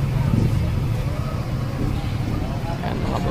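Gasoline engine of a Mazda E2000 powervan, noted for a carburetor issue, idling steadily with a low rumbling drone throughout, a voice speaking faintly over it.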